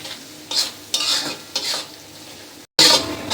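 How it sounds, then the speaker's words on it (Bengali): Spice masala for a Bengali prawn malai curry is stirred and fried in a pan, with close, rhythmic scraping strokes over a hissing sizzle and a brief break before a loud final stir. "এখন আমি সুন্দর করে মশলাটা কষিয়ে নেব"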